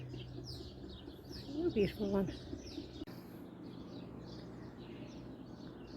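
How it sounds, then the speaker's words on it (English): Wild birds chirp outdoors in nature, with quick high tweets repeating throughout at a moderate distance, while someone speaks softly nearby. "you hear around me all the noises of the birds just chirping away"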